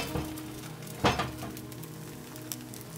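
Banh xeo crepe batter poured into a hot pan bursts into a loud sizzle about a second in, then settles into a steady frying crackle with a faint utensil clink near the end.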